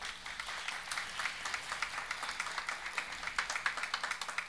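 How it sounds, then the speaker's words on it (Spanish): Applause at a 2021-2022 high school graduation ceremony at Colegio Luis Hess in Sosúa, Puerto Plata: a steady crowd of many hands clapping, moderately distant, with no talking. "Fuerte aplauso"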